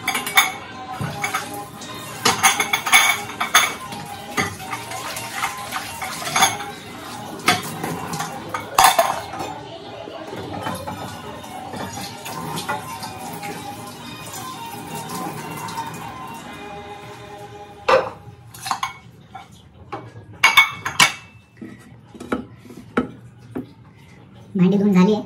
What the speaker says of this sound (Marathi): पहिले धुवून घेऊया भांडी